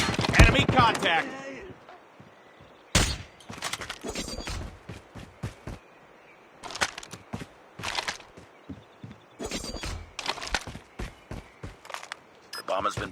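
Gunfire in Call of Duty Mobile comes in sharp, separate bursts and single cracks across a multiplayer match, with game voice callouts in the gaps between shots.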